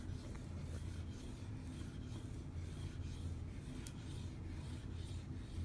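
Heavy pastel scrubbed hard onto paper, a soft continuous raspy rubbing with faint strokes, quiet and close, no talking.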